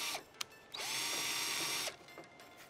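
A power drill bores a pilot hole into particle board while a custom table is built, one steady, loud whirring run of about a second after a brief click, then quieter handling noises.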